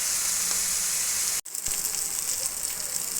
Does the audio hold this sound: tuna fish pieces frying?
yes